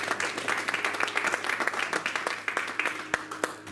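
Applause from a congregation during a church service, a dense patter of clapping hands that carries steadily for several seconds with a few sharper individual claps standing out near the end.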